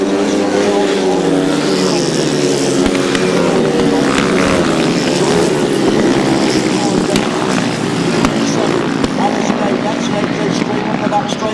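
Grasstrack racing motorcycles roar up the back straight, a continuous loud engine drone with rising and falling pitch as the bikes pass, under an energetic commentator's voice.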